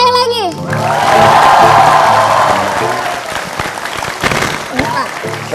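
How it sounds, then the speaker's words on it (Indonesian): Studio audience of a television talk show bursting into applause, a loud swell of clapping that builds and fades over a few seconds, with a voice speaking at the start and scattered claps trailing off. "Boleh tepuk tangan sekali lagi?"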